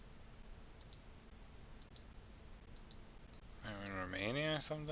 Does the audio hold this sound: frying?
no